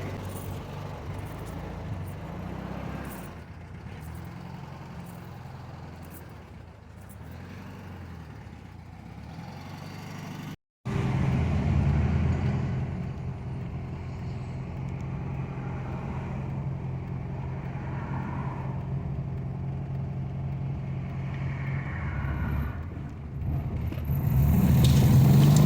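A 1970 Volkswagen idles and creeps slowly forward into a garage, a steady low engine rumble that rises slightly after a brief break and swells near the end, with no talk.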